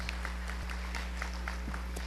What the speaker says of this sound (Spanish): Aplauso a Maradona para que salga